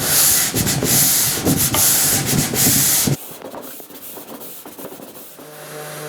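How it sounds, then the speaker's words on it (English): Power sander working across the front of a mid-century modern wooden dresser, a loud steady abrasive whir that cuts off abruptly about halfway, leaving quieter room noise and a low hum. "as I started to sand the front of the dresser"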